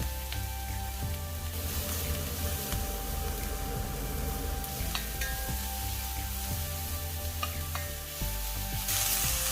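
Curry leaves, ginger, green chilli and carrot fry in a pan for rava idli, giving a steady close sizzle with occasional stirring scrapes and clinks throughout, no talking.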